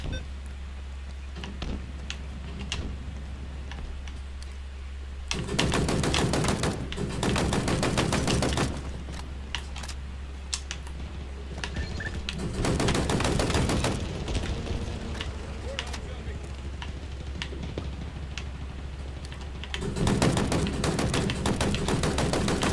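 Commando rifle gunfire in the Halo Infinite multiplayer game comes in several loud bursts of rapid shots, broken by quieter stretches with scattered single shots and game effects under a constant low hum.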